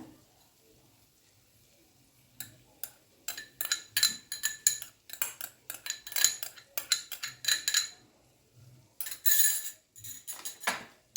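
A spoon mixes rice in a pot for green pulao, a run of clinking, scraping strokes in bursts of varied loudness after a quiet opening, close and alone.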